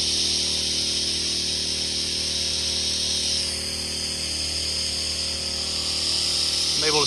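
A gas-powered Predator 1-inch water pump softwash rig sprays cleaning solution up onto a two-story house, giving a steady, loud hiss over a constant low engine drone.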